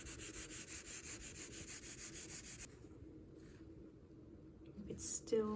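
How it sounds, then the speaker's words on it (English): A stain being rubbed off a quartz countertop, giving a steady rhythmic scrubbing swish up close for about half the time, then quieter rubbing with a brief squeak near the end. "I'm just going to rub a little more"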